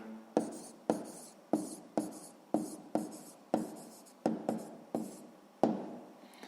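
Pen strokes of someone writing down a math answer on paper: about ten short, crisp scratching bursts in a steady rhythm, close and clear, with no talking.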